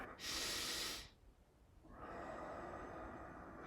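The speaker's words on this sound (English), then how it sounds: "So I'm using that app to structure this series of breathing rounds." Wim Hof style deep breathing: a forceful, close nasal inhale with a hissing rush, a brief pause, then a long steady exhale, quiet overall with no speech.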